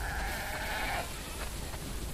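A sheep gives a long, wavering bleat in The Last of Us Part 2 video game, clear and close, then fades into quiet ambient game background with faint distant bleats.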